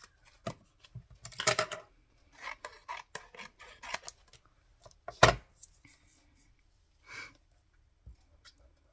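Scissors snip through cardboard pieces, trimming off the overlapping edges of a handmade 3D tunnel craft element, in a series of close, irregular crisp cuts with brief rustles and pauses between them and no talking.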